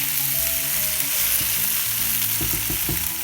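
Spinach sautéing and wilting in a pan, an even close sizzle with a few light stirring knocks near the end, and no one speaking.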